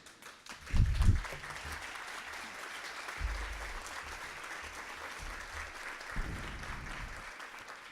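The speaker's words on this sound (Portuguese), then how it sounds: "Sabe que suas palmas vêm em boa hora" Audience applause at a formal city council ceremony in Campinas awarding an honorary citizenship title; a burst of clapping swells early, then steady applause carries on with a few louder surges before fading near the end.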